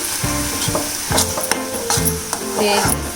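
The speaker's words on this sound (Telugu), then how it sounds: "అందుకోసమని పచ్చివాసన పోయే వరకు వేయించుకుంటాం" Clay-pot chili powder mixture fries in hot oil while being stirred, with close, repeated scraping strokes over a steady sizzle.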